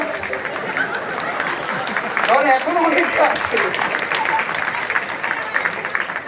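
Seminar crowd applause at a Modicare business talk, a steady wash of many hands clapping that peaks midway, with someone speaking over it throughout.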